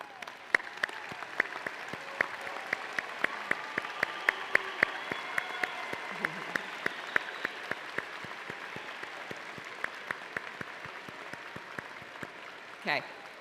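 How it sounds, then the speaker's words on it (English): An audience at the University of New Orleans fall commencement applauds standing parents and guardians: steady, dense clapping in a large hall with distinct individual claps on top and a brief voice near the end. "please stand and remain standing, and let us applaud you."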